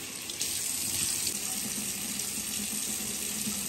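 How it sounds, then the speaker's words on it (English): Tap water runs steadily into a bathroom sink while a face is rinsed, a close, even rush of water that continues without pause and no voices. "I'm probably gonna go in a couple times and rinse this off"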